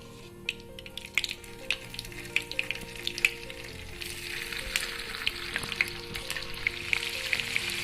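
Paneer pieces frying in hot refined oil in a kadhai, a steady close sizzle with scattered crackles and pops throughout, no voices.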